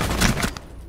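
Rainbow Six Siege in-game gunfire, a loud, dense burst of rapid shots lasting about half a second before fading into a quieter tail.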